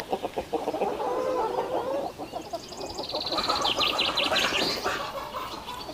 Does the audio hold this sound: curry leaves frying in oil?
no